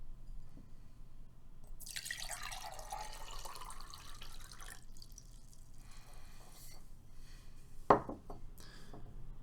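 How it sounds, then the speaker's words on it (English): Liquid poured from one glass container into another, a broad splashing pour lasting a few seconds followed later by a single sharp clink of glass, heard close and alone without talk. "watch what happens when I pour one into the other"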